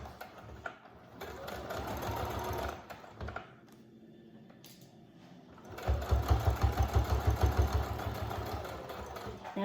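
A sewing machine stitches a child's face mask in quick mechanical bursts. Steady runs of stitching stop for a short pause midway and resume with a stronger rhythmic chatter, close and moderately loud.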